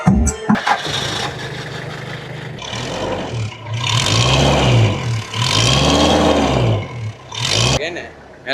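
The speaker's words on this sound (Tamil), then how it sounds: "இன்ஜின் வளமும் நூற்றுக்கு நூறு நான் ஸ்டார்ட் பண்ணி காட்டுவேன்" A Dolphin van in Jaffna starting up: the starter cranks, the engine catches, and then it is revved several times in swelling surges between idle dips. The engine is loud and close.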